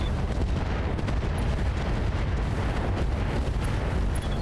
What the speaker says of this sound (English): I'm firing on the enemy.